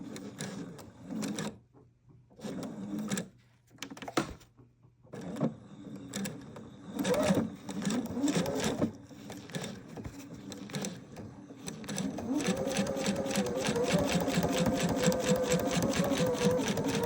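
A sewing machine stitches fabric for a hammock, its motor running in bursts with short pauses at first and then settling into a steady, continuous hum of rapid needle strokes close by.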